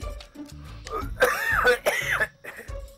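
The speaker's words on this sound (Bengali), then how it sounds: "তুমি কাশছো কেন? ঠান্ডা লেগেছে নাকি?" A man with a cold gives a few harsh, close coughs and throat clears in quick bursts over about three seconds, with no talk.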